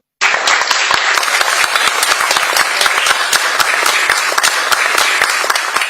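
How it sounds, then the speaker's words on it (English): Shareholders applaud at the Reliance 49th Annual General Meeting, a dense, sustained wash of many hands clapping loudly and steadily from start to finish, filling a large hall. "let us applaud Isha and the entire retail and consumer product teams"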